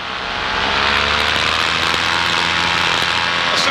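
Paramotor engine climbing in pitch and loudness as the throttle opens, then holding a steady, loud propeller roar close by, with no talking.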